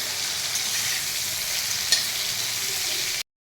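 Vegetables fry in hot oil in a pan during a vegetarian home cooking session, giving a steady, close hiss of sizzling with one brief utensil clink partway through before the sound cuts off.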